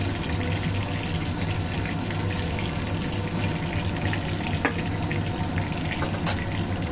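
Soft daitne fish gently frying in oil in a pan, giving a steady, dense hiss and crackle up close with a low hum underneath, unbroken for the whole stretch.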